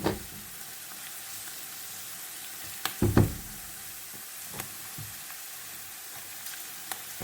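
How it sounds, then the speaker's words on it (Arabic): Onion, garlic and ginger frying in ghee in a pan for biryani masala, a soft continuous sizzle with a few knocks and scrapes of a spoon against the pan. "هسه البصل والثوم والزنجبيل ما تتحمص زين"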